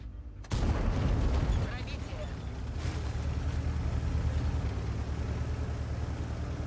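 A tank gun fires in the World of Tanks video game, a sharp loud blast followed by a long rumbling roar that fills the rest of the clip, with game and battle noise continuing underneath.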